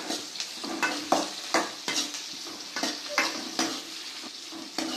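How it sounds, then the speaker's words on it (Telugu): Cumin seeds fry in a hot pan with a crisp sizzle, broken by a steady rhythm of roughly a dozen sharp stirring scrapes, close and moderately loud. "జీలకర్ర వేపి పక్కన పెట్టుకోవాలి. ఇట్లా వేయించుకోవాలి."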